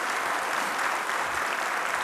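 An audience at a Veterans Day breakfast applauds in a dense, even wash of clapping that continues without a break.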